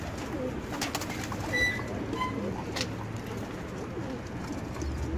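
Pigeons coo softly around a newly built pigeon coop amid steady outdoor background noise, with a few brief higher bird chirps scattered through.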